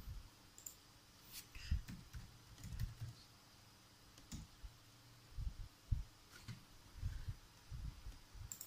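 A computer keyboard is typed on at the Windows Command Prompt in quiet, irregular bursts of soft clicks and key taps, heard close and faint with no talking.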